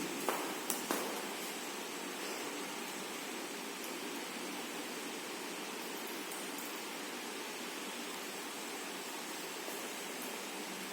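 Rinsing solution from lab glassware being poured away during an EDTA hardness titration, a steady soft rush of running liquid that follows a few light glassy clicks, continuous and fairly quiet.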